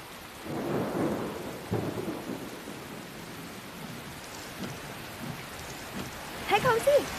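Heavy rain pours steadily throughout with rolling thunder rumbling underneath, and a sharper crack of thunder near the end; the storm is loud and close.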